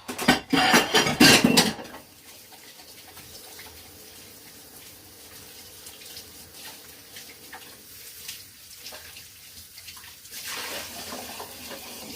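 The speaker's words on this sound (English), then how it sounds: "let me just wipe the tabletop, wash my hands, and then get to it" A few clattering knocks and rubs open, then water runs from a tap steadily as hands are washed at a sink in a kitchen, a moderate stream that swells slightly near the end.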